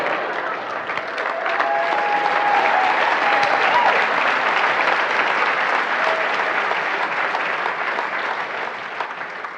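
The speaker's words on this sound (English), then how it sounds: "They're clapping for you." A large audience applauds in a dense, sustained wash of clapping that swells and holds, then fades slightly toward the end.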